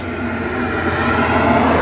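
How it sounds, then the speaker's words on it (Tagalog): A car engine that ran low on engine oil idles with a steady, loud, rough mechanical drone, close and unbroken for a couple of seconds, with no talk. "nag-iba lang yung tunog ng makina"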